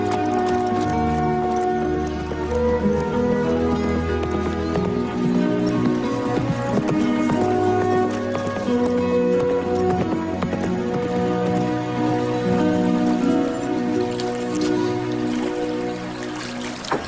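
A horse named Flash clip-clops along steadily beneath a full, continuous music score, the hoofbeats blending into the dense orchestral sound for the whole stretch.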